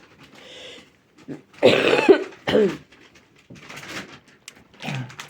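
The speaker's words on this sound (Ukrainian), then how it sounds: "Ой, я пробачаюся, кашлянула прямо сюди. Прямо в телефон." A woman coughs several times in harsh, close bursts, with brief pauses between them and some throat sounds, loud and near.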